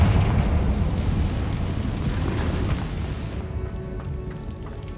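A Confringo fire-blast spell explodes in the Hogwarts Legacy video game: one loud, heavy boom with a deep rumbling roar that slowly fades over several seconds.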